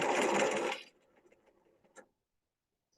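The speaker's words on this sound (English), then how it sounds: "And we're going to sew" A sewing machine stitches a peplum jacket in a loud, steady burst that stops abruptly, followed by faint ticking and a couple of brief taps in near quiet.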